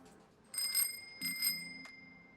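Two quick rings of a bicycle bell in the video game DayZ, clear and bright over a faint background hum, with a short low tone between them and a last tiny click.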